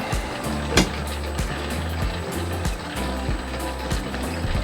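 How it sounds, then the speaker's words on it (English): Bits of ice are crushed inside a Dallagiovanna dough mixer, giving a steady low mechanical churning with repeated rhythmic knocks and a sharp crack early on. "Here are bits of ice getting crushed."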